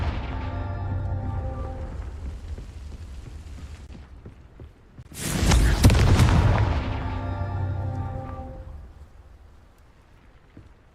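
Confringo fire spell explosion in the Hogwarts Legacy video game: after a lingering tonal hum, a loud, close boom erupts around the midpoint and rumbles away over several seconds before fading out.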